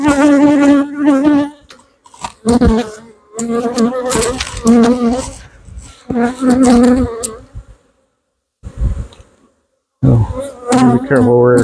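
Honeybees swarming over an open hive during a beehive inspection, their buzzing hum rising and falling close by between stretches of nearby talk, with a short quiet gap near the end.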